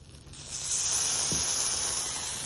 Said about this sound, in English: You hear that? Sizzling, so good.